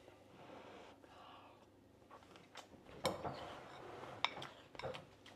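A metal spoon clinks a few times against a bowl of food with jalapeno and tofu during a taste test, producing sharp, close taps that are spread out over quiet kitchen background noise.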